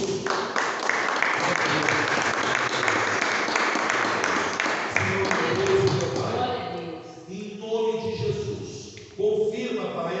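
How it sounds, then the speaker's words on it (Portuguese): Church congregation in Brazil gives strong applause, loud dense clapping that begins at once and fades after several seconds as a preacher's voice comes back in over the tail. "Uma salva de palmas para Jesus"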